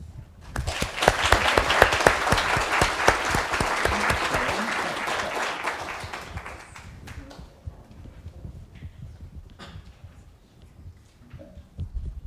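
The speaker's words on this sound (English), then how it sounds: "we will collectively give you a round of applause" A lecture audience in Syracuse gives a round of applause, a loud burst of dense clapping that gradually thins out and fades to scattered claps and room noise.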